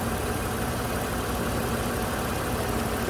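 A 2008 Toyota RAV4 engine with a past misfire fault idles steadily and evenly, a constant low rumble at moderate level with no voices.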